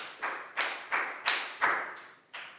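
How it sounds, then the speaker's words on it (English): A small group of children clapping for a pupil in a classroom, six short sharp bursts of claps in a regular rhythm, close and moderately loud, with no talking. "big round of applause for Lakgao."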